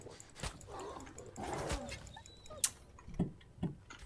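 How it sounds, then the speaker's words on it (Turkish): A dog whimpers and stirs in the video game Wolfenstein: The New Order, mixed with ticking and scattered game effects at moderate volume. "Bu köpek möpek var ya."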